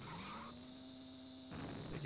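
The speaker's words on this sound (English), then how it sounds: "You can hear I'm using the brakes there. And also hitting the wall." Game car in the Amiga racer Supercars 2 braking hard with a sustained tonal screech, a steady engine drone underneath, then a rougher burst as it strikes a wall; no talk.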